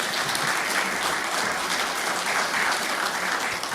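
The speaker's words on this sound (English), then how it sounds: "request you all to show your appreciation by a round of applause" Applause from an audience after a lecture on global energy sector policy, a dense, steady clatter of many hands clapping continuously throughout, with no voices.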